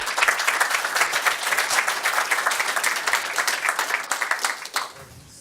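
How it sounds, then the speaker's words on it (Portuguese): An audience at a theology seminar applauds loudly and continuously for several seconds, a dense wash of clapping that fades out near the end. "vamos saudá-lo com uma salva de palmas"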